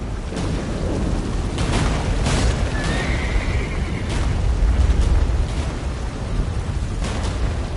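Geralt's horse Roach in Witcher 3 gives a clear neigh midway through, over a loud steady rumble of gallop and storm noise, with no voices.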